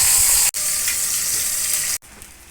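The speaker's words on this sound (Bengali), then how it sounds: "লাল করে মাছের মুড়োটা ভেজে নেব" A fish head frying in mustard oil in a pan, giving a steady, close, loud sizzle that cuts out twice for a moment and then carries on. No one speaks.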